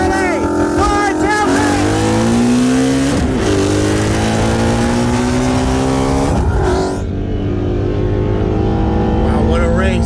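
A 2018 BMW X6M with bolt-ons on E50 and a 2016 Mustang GT with heads and cams on E85 launch from a 40 mph roll, engines roaring loudly and climbing in pitch through the gears, with voices audible over the noise.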